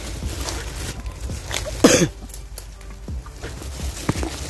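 A man out foraging for paperbark mushrooms in the forest coughs once, a short harsh burst rising above rustling steps and outdoor background noise.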